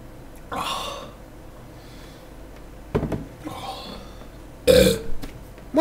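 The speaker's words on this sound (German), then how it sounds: "Musst du mal rülpsen?" A man gives a few loud, close burps while drinking beer, separated by short pauses, the last one the strongest.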